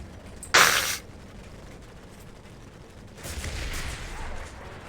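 Reavers firing at each other during an air battle in a video game: a sharp, loud burst of fire, a quieter stretch, then a longer, rumbling barrage of shots further off.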